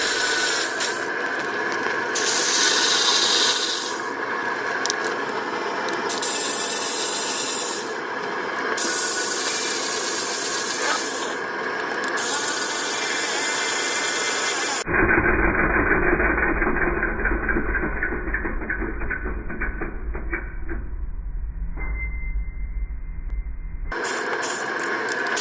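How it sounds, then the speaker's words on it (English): A ratchet works the passenger-side valve cover bolts loose on a Toyota 3.4L engine with a blown head gasket, giving close, repeated rasping clicks in short bursts with pauses between them. "removing the passenger side valve cover bolts"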